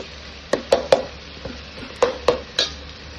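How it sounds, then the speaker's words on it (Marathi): A spoon stirs garlic in a cooking pot for Agri mutton, scraping and clinking against the metal in a string of sharp knocks and scrapes over a low sizzle, close and distinct. "म्हणून हे जरा चम्मचने थोडा फिरवतच राहायचं याला"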